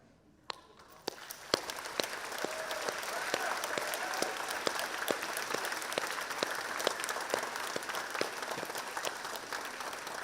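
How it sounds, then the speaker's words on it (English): A graduation crowd rises for a standing ovation, with a few early claps building quickly into steady, full applause from many hands that continues without pause. "Graduates, please stand and give them the ovation they've earned."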